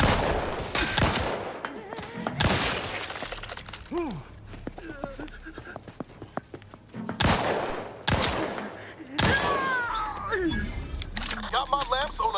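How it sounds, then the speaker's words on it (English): Machine gun fire in The Outer Worlds 2 rattles in short bursts among sharp game shots, clinks and electronic effects, with a player's voice talking over the action. "Oh, it's the machine gun. I thought it was the rocket launcher for a minute."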